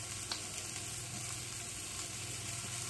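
Chorizo and eggs sizzle steadily in a pan as Maggi seasoning goes in, a dense, even close-up frying hiss with faint crackles and no talk.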